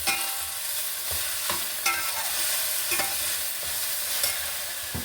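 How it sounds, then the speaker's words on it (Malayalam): Chopped ivy gourd frying in hot oil, a continuous bright sizzle punctuated by periodic scrapes and taps of a spatula, close and steady, without any speech. "അതിലേക്ക് അരിഞ്ഞ് വെച്ചിരിക്കുന്ന കോവയ്ക്ക കൂടി ഇട്ട് കൊടുക്കാം."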